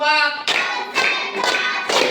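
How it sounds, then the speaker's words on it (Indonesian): Schoolchildren in a classroom clap together in a counted routine, sharp sync bursts about every half second, following a brief sustained tone at the start. "Tepuk 1, tepuk 2, tepuk 3, tepuk 4,"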